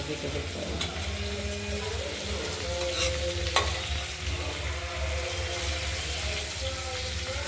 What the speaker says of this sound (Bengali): একটু হালকা ভেজে নেব আমরা